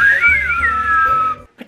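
Several people whistle together in a wavering, sliding tune that holds steady for over a second, then breaks off into a short faint sound near the end.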